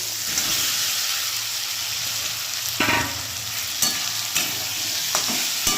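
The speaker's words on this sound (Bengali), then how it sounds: "এবার ওই ভেজে রাখা আলু বেগুনটা ওতে দিয়ে দেবো" Fried potato and eggplant pieces tipped into a sizzling spice paste for a home-style Bengali fish curry, a constant hiss of frying punctuated by four or five distinct spatula clacks and stirs, close and unaccompanied by talk.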